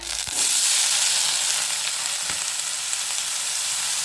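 Mustard seeds, dried red chili, curry leaves and asafoetida sizzle in hot oil for a radish dish tempering, a loud, dense, steady crackle that bursts in suddenly and keeps frying without a break, with no voices.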